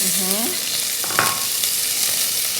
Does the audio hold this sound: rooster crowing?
no